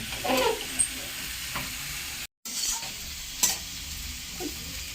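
Potatoes and eggs sautéed in a pan for an egg curry, with a steady close frying hiss and occasional scrapes of a spatula stirring.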